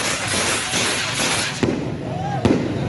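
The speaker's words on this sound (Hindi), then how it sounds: "ओकाड़ा में लीगी अरकान की जानिब से शानदार आतिशबाजी का मुजाहरा किया गया।" Fireworks burst at a political celebration in Okara, Pakistan, a dense crackling barrage followed by two sharp separate bangs, with a whistle rising between them and a voice partly audible under the noise.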